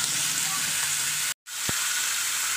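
Pumpkin and tilapia sizzle in hot oil while being stirred, a close, steady frying hiss broken by a brief silent gap and a single small knock.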